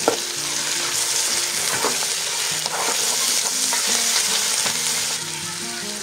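Food being stirred in a frying pan while cooking stuffed cabbage filling with red paprika and herb salt, steady close sizzling with repeated scraping strokes of the spoon and no voices.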